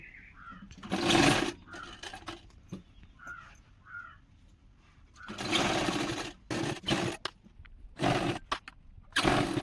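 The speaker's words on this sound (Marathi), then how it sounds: "लेस बनवलेल्या गळ्यावर टीप मारून घेऊया" A sewing machine stitches along a lace-trimmed blouse neckline, running in several loud bursts of rapid chatter separated by pauses, with faint short chirping sounds in the gaps.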